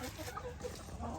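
Hens cluck softly inside a backyard chicken coop, a few close murmuring clucks under a faint background hum.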